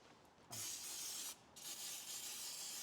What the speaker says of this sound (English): we're just going to give it a quick clean off with some brake cleaner